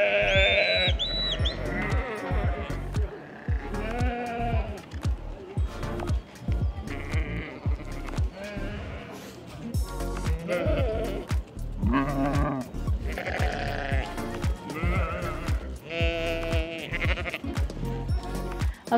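Sheep in a hillside flock in Nantou County, Taiwan, bleat over and over in a dense overlapping chorus as shepherds call them home near closing time. The bleats come in rapid irregular bursts from several animals at once, loud and close.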